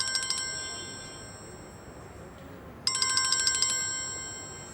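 A phone ringtone chimes in a quick electronic burst, falls silent briefly, then rings again, bright and clear over faint background noise.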